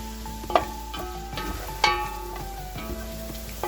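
Onions browning in oil for Bannu beef pulao give a close, continuous sizzle, broken by a couple of sharp scraping stirs of a spoon, with no voices.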